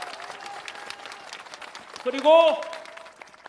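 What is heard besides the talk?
outdoor crowd applause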